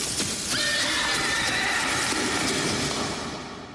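Near and loud, a horse gives a long whinny that rises and trails off over a few seconds, with faint hoof clops and stable noise underneath.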